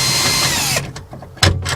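A power drill whirs steadily while backing screws out of a retrofit power sunroof on a Ford Focus Mk1. It then stops, followed by a few short clicks and a closer clunk of handling.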